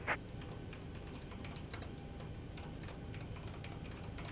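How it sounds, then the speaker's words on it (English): A computer keyboard being typed on during a home flight-simulator session gives quiet, irregular key clicks at close range over low background hum, with no talk. "You can hear my clickety clacking keys."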